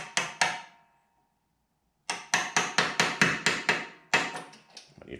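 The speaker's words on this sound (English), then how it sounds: "I'm just going to slide it on and drive it on with a 3/8" socket" A seal is hammered onto a shaft of a Cub Cadet RZT-54 zero-turn mower using a 3/8-inch socket as a driver, giving three quick metallic taps, a pause, then a steady run of about eight close, sharp strikes.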